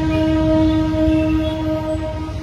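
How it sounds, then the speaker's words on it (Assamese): A train horn blares with a sustained, steady tone near Chanmari bridge, loud and continuous over low rumbling traffic noise. "এইফালে ট্ৰেইনে পেওঁ কৰি আছে"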